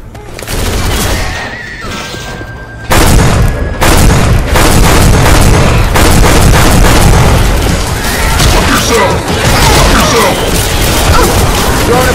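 Pipe bomb detonating among zombies in Left 4 Dead 2, a loud booming blast followed by a sustained rattling barrage of crashes and pops.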